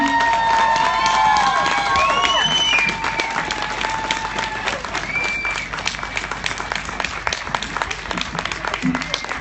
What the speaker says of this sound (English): Another round of applause for Renee, everybody.